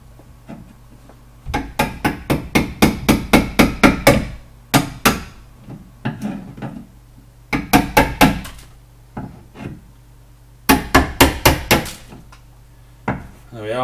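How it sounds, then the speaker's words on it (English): A chisel is struck against a wall in quick bursts of sharp hammering knocks, several rapid series of close, loud taps separated by short pauses. "I've also chiselled a hole in my wall now, but it's fine."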